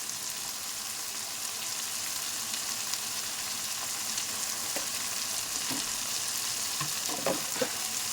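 Ginger garlic paste fries in hot oil as chili powder goes in, a steady close sizzle throughout with a few light stirring clicks and scrapes near the end, no voices.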